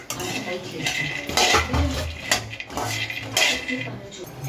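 Peanuts dry roasting in a kadai with nothing else added, stirred by a metal spoon that rattles and scrapes against the pan in bursts, close and clear.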